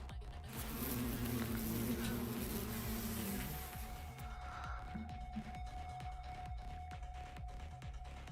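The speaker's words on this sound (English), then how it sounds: "the swarm of bees that had been hovering above us made a beeline for the fallen commanders" A swarm of bees in the video game The Hundred Line, a dense, close buzzing that swells for a few seconds, then thins into a fainter hum under scattered clicks and a steady tone.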